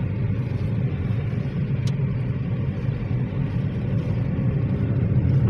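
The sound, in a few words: car driving while following a friend's car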